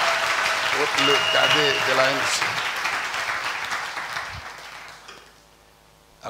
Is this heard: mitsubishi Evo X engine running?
no